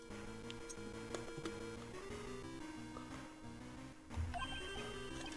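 A cell phone ringtone from the video game Ace Attorney Investigations 2 plays as a repeating electronic melody over background music, steady and clear, with a louder jump in the tune near the end.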